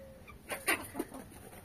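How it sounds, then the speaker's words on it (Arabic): Chickens in a backyard enclosure give a few short, soft clucks at close range, with a faint bird call in a quiet setting. "الدجاج الجديد على مود يتعود على باقي الدجاج"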